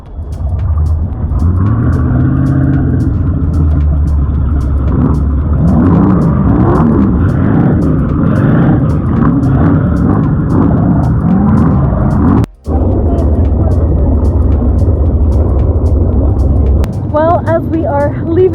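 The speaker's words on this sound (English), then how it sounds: "Gentlemen, start your engines!" Racing boat engines at the Monte Carlo Offshorer event in Monaco start and idle with a loud, rough, throbbing roar, with voices mixed in, a brief dropout near the end, then the engines carry on.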